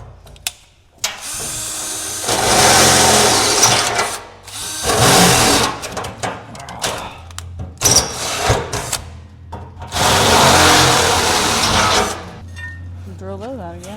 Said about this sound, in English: Drill those out again.